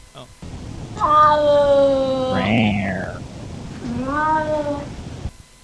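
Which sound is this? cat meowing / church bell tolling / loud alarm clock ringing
cat meowing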